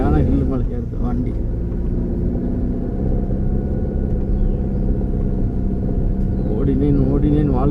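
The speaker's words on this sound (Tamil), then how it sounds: "சரியான ஹில்லு மலை ஏறுது வண்டி." A vehicle engine labours up a steep hill road, a steady loud low rumble with shifting harmonic tones that holds throughout, with a brief rise in pitch near the end.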